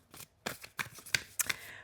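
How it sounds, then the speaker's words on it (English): Light Seers Tarot cards shuffled overhand in a run of crisp, papery riffling bursts, each one short and bright, close by and moderately loud with brief pauses between them. "I actually feel like overhand shuffling today"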